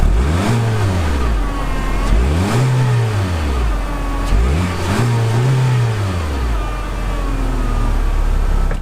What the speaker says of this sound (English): No, let's hear the engine here.